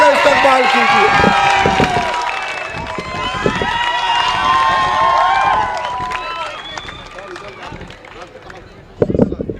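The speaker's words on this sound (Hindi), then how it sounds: "तालियों की गूंज में सुजात दादा अम्बेडकर जी का इस्तकबाल कीजिए" At a political rally in Nanded, a large crowd applauds and cheers steadily for several seconds, a dense wash of clapping and shouts that fades slightly before a burst of louder claps at the end.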